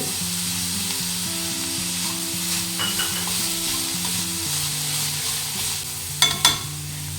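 Grated coconut frying with curry leaves in a pan, a continuous close sizzle under scraping stirring strokes, with a couple of sharp utensil clinks near the end.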